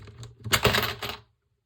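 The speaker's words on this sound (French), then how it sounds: "Les 10 centimes, je vais les mettre dans ma petite tirelire" Ten-cent coins drop into a small piggy bank, a brief close metallic clinking and rattling cluster lasting under a second before falling silent.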